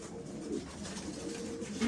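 Filo pigeons coo softly in a crowded coop, low murmuring calls overlapping in a faint, steady background.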